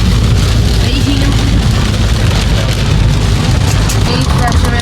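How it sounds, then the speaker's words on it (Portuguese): Hail and heavy rain drumming steadily on a car, a dense loud patter throughout with a low rumble underneath during a stormy day at a chalet getaway. "Eita, tá chovendo granizo agora. Chovendo granizo, olha isso."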